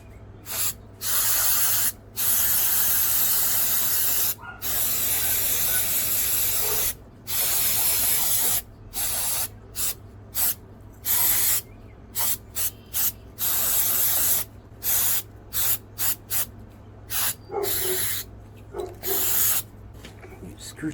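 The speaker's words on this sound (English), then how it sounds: "I don't really want to get carb spray in there, but up there's no problem." Carburetor cleaner sprayed onto a carburetor in a series of loud, close hissing bursts, some long and some short, separated by brief silences, with a low steady hum underneath.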